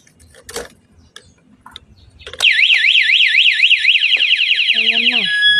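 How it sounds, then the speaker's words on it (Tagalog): A car alarm set off as the car is locked with the key: after some quieter handling noises and a voice, a loud warbling electronic siren starts abruptly and wails on steadily, ending with a few descending tones. "Mag-alarm na siya guys."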